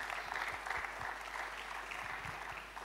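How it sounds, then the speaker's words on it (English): An audience at a talent-themed church event gives a steady round of applause, dense and even clapping that holds for about three seconds at moderate level. "Round of applause for them one more time."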